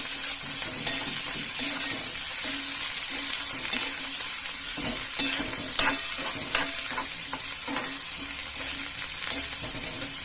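Peas and capsicum frying in a pan for spiced noodles, a steady sizzle close by, broken by a few sharper clinks and scrapes as the vegetables are stirred.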